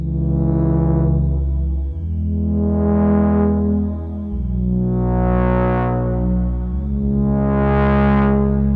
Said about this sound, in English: With slow envelope settings and a bit of reverb of course, this simple patch can already create nice warm chords